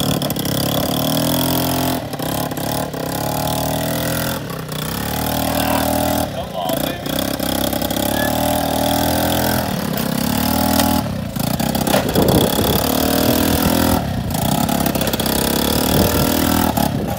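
A turbo moped engine revving hard, a loud buzzing two-stroke whine rising and falling through repeated throttle bursts, close by, with people talking over it.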